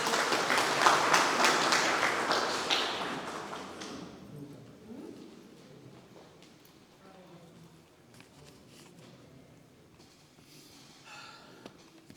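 Audience applause at a regional launch event of a Mauritian political rally, a loud burst of clapping for about four seconds that fades into quieter crowd murmur and scattered noises.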